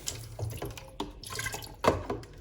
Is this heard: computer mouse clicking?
no